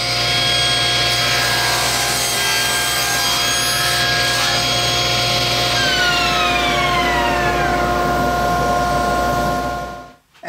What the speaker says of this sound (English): we're going to cut our first angle of 7 degrees on the one side of our engine block